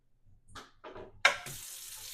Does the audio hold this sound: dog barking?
no